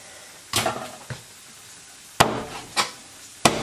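Khukuri knife chopping raw chicken at home, four sharp, separate thuds of the blade striking through meat onto a board, each followed by a short clatter.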